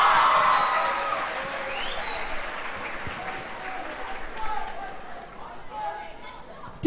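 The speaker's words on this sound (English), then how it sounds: "Let's have another round of applause for that stunning performance." Audience applause and cheering at a school Teachers Day morning assembly, a dense crowd of clapping with some whoops that gradually thins out, with voices chattering underneath.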